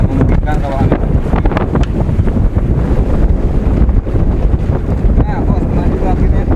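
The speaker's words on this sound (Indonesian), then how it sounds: "Aduh, anginnya kencang banget." Strong wind blowing hard over open sea at a fishing platform, roaring and buffeting the microphone continuously with a gusty, choppy rush, while a person talks briefly.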